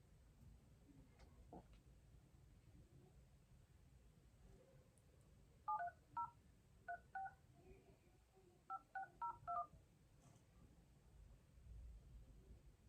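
Telephone number being dialed for a call on a phone, heard as short clusters of DTMF keypad tones in the middle of the stretch over a quiet background hiss.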